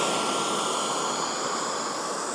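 Kingtech K45G4 model jet turbine running on a bench test, a loud, steady, close roar with a high whine that holds evenly throughout and has no talk over it.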